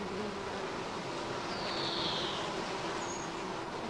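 Honeybees buzz steadily around hives kept for honey, a close, dense insect drone running unbroken throughout, with no one speaking.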